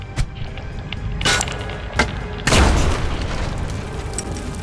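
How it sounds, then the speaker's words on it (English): Grenade explosion in the video game Mutant Year Zero, a loud booming blast with a rumbling tail after a few sharper preceding impacts and pops. "with his second action he can now throw a grenade"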